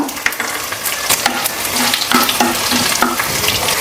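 Tomato sautéing in a pan for aval upma, a loud close sizzle with frequent spatters, crackles and stirring scrapes, no talking.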